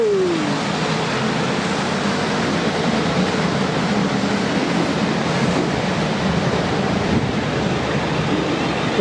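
A fast train roars through a railway station on the South Western Railway line, a loud, steady rush of wheels and wind noise that holds throughout without pause, with no talking.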